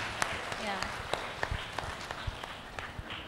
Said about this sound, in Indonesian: Ya, beri tepuk tangan dong.